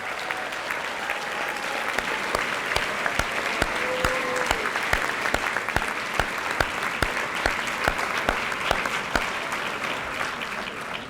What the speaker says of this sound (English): please stand and receive a well-deserved round of applause